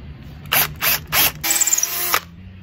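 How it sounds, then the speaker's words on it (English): A drill bores a pilot hole while cable railing is installed, with several short bursts followed by a longer steady whir, close and fairly loud. "Go ahead and pilot our hole."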